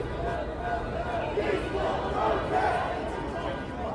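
A large protest crowd in a Los Angeles street during riots chants and shouts in a steady, dense roar that continues without a break.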